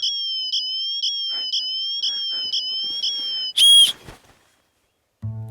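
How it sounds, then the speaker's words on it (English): A survival whistle rated to 120 decibels sounds a string of eight short, shrill, evenly spaced blasts, then one louder, harsher burst. A brief low thump follows after a moment of silence. "Check out this survival whistle. Maximum 120 decibels."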